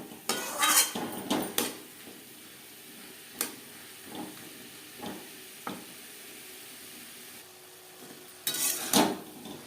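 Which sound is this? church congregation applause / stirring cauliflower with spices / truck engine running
stirring cauliflower with spices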